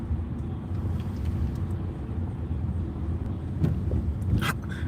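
Steady low engine rumble inside the cab of a GMC truck, continuous and even throughout with no talking.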